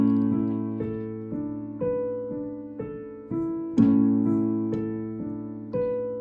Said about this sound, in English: in your left hand, you're just going to play an octave A